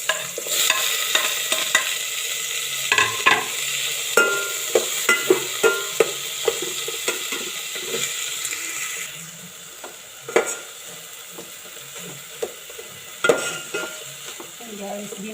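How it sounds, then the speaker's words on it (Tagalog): Tomatoes being crushed and stirred in a sizzling frying pan for milkfish sinigang, with a constant close frying hiss under repeated scraping and tapping of a utensil against the pan. "dinodorog ko masyado ng kamatis"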